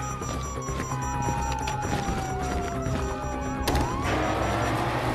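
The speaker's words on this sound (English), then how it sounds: "You hear that? Siren." Police siren in Grand Theft Auto V, a descending wail sweeping through a busy, noisy game mix with engines and crashes, steady and fairly loud throughout.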